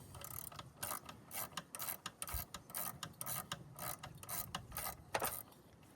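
Rapid ratchet wrench clicking while loosening a bolt on the 3.8 engine of a 1993 Ford Taurus during oil pump replacement, steady irregular clicks up close and fairly faint, no voices.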